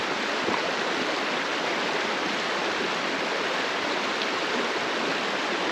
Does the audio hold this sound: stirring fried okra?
no